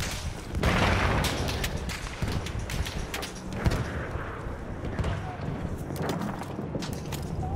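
Artillery cannon fire in the World War I shooter Battlefield 1: several deep booms and sharp bursts scattered through a noisy battlefield mix, with players talking over it.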